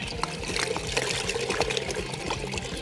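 Water pouring and trickling steadily into a container of dried legumes set to soak for hummus, a continuous splashing fill with no one talking.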